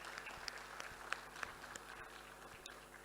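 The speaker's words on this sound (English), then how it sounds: "deserve a huge round of applause." Audience applause at a valedictory speech event in Hyderabad, Telangana: a steady, fairly faint wash of clapping across the whole moment, with a few sharper individual claps standing out.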